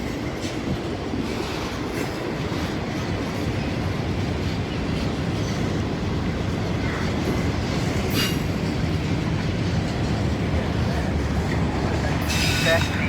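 A freight train rolls past with a loud, continuous rumble, rhythmic clickety-clack from the wheels and occasional brief squeals from the rails.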